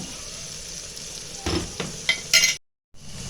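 Close sizzle and scrape of a spoon stirring masala with tomatoes, garlic, ginger, salt, chili and turmeric frying in a pan, steady hiss broken by a few sharper stirring clatters before a brief silence.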